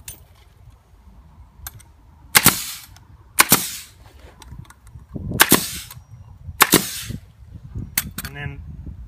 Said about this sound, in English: barely touch my string, and take my staple gun